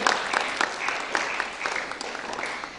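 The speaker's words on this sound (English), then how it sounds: "let's give him a big round of applause with an honor from our school" An audience at a school music event applauds in a steady patter of hand claps, moderately distant and fading slightly toward the end.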